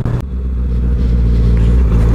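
A Honda CB650F motorcycle engine rumbles loudly close by while climbing a mountain road, its low drone steady and building slightly as it accelerates.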